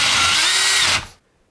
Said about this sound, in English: So get your bigger concrete drill bit out